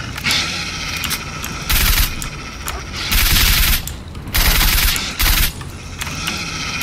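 Loud bursts of rapid automatic gunfire in the video game S.T.A.L.K.E.R.: Shadow of Chernobyl come in several volleys, separated by shorter gaps of quieter background noise.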